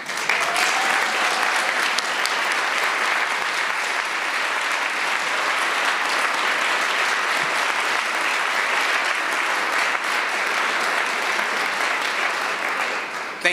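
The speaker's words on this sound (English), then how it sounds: "please stand up so we can give you a round of applause" A room full of people applauds city employees at a mayor's budget address, steady dense clapping that holds evenly for several seconds with no talk over it.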